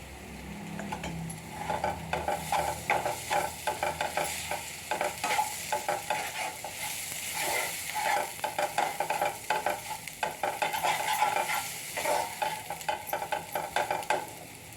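A spoon stirs ground dal with red chili powder and turmeric in a pan over heat, giving rhythmic scraping strokes over a continuous soft sizzle of frying, close and moderately loud.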